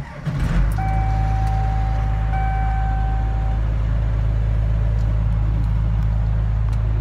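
A Cummins diesel swapped into a Ford truck cranks briefly and catches, then settles into a loud, steady low rumbling idle close by, with a chime tone sounding near the start.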